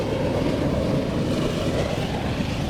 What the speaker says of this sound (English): It's a freight train.